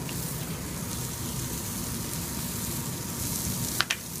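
Shallots sautéing in a nearly dry pan as part of a sauce, giving a steady close sizzle and hiss throughout, with a couple of brief clinks near the end.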